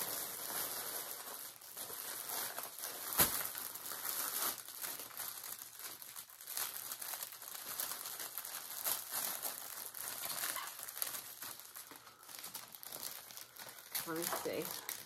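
Plastic bags crinkle and rustle almost continuously while Lion Brand Mandala yarn cakes are packed into them, close by and under a person talking.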